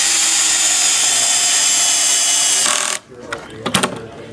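A screw being power-driven into oak hardwood, a loud steady whine from the driver that stops abruptly, followed by a few faint clicks and taps.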